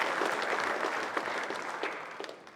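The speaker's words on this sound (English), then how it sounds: "Could we get a round of applause for Arthur and his friends?" A room full of people applauds at a public meeting in Ashhurst about a proposed toll, a short burst of moderate clapping that slowly tapers off.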